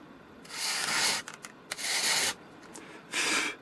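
Rhythmic strokes of sandpaper rubbing across the wooden surface of a glider, several bursts of scratchy abrasion with short pauses between, close and fairly loud.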